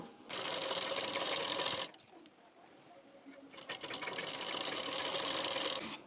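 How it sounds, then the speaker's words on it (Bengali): An electric sewing machine stitches a blouse waistband strip in two bursts of fast, even mechanical whirring, close by, with a quiet pause between the runs. "নিয়ে এখান থেকে বসিয়ে সেলাই দিয়ে নেব"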